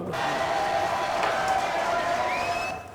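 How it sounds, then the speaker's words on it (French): Studio audience at a French TV quiz show applauding and cheering, a steady dense roar of clapping and voices that holds for about three seconds before tapering off at the end. "Applaudissements"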